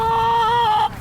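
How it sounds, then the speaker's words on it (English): A chicken in a school chicken coop gives one sustained, loud, close vocal call lasting nearly a second. "At first glance, this chicken coop looks like it'd be on an Indiana farm."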